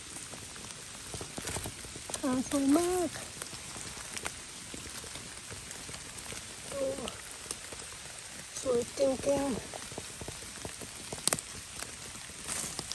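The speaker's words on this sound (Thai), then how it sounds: "แต่ฝนนี่สิเมื่อไรจะหยุด" Rain patters steadily on surfaces outdoors during mushroom picking, a constant faint hiss with scattered drops, while someone talks softly at times.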